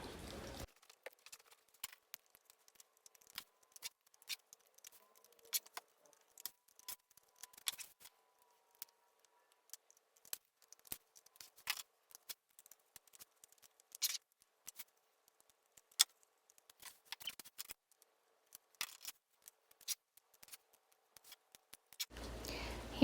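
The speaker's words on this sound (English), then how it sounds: "I got my little tiny micro scissors out and tried to cut the corners" Small micro scissors snip fabric for reverse appliqué, a sparse series of quiet, crisp close-up clicks and cuts spread irregularly across a near-silent background.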